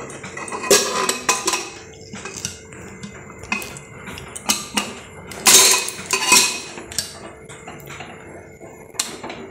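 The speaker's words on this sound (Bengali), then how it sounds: "এবার আমি প্রেসার কুকারটা বসিয়ে দিয়েছি" Metal clanks and clinks as a pressure cooker is set on a gas stove and its lid locked shut, scattered bangs and scrapes close by with no talk.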